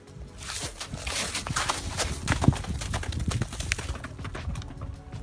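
Horse hooves clip-clop in a steady, uneven patter of sharp knocks over a few seconds, fairly close, with no speech.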